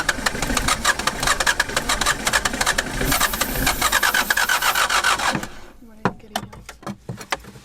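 Van engine on the Ethiopian highlands cranking rapidly and unevenly during a start attempt, a loud, rasping starter churn that stops, then a few scattered clunks and voices.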